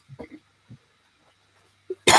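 A single harsh cough bursts out loud and close at the end, after a few soft throat noises and small murmurs in a quiet room.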